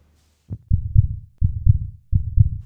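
A movie-trailer heartbeat effect: three loud, deep lub-dub double thumps at a slow, steady pace, heard alone against silence.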